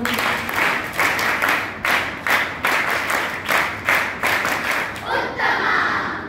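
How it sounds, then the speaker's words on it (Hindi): A rhythmic 'uttam' clap at a spiritual camp, the audience clapping together in repeated synchronized bursts of about one per half second, with a looser scatter of claps at the end. "एक बार पुनः उत्तम ताली बजाओ"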